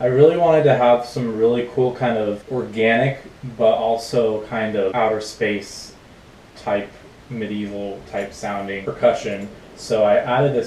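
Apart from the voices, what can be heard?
No distinct noise like a dog, phone or traffic.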